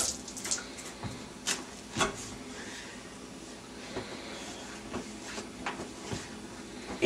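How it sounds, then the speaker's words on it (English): Tap water runs steadily into a sink during hand washing after handling eggs in a home kitchen, a continuous close splashing hiss with a few soft knocks and clatters. "wash our hands real good."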